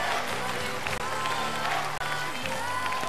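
Fans applaud steadily through a rumba at a ballroom dance competition, a dense, continuous wash of clapping from a crowd, with a commentator speaking over it.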